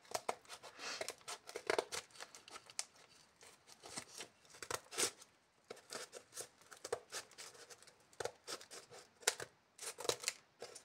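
Scissors snipping off an overhanging piece of bamboo on a bamboo frame, a rapid run of close, crisp cuts and rustles in uneven bursts.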